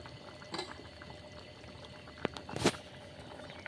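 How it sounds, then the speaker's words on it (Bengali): Cooked moong dal finished with ghee is poured into a bowl in a couple of short, soft splashing pours, the main one near the end, over a quiet kitchen background. "ঢেলে দেখাচ্ছি, দাঁড়ান একটা পাত্রে।"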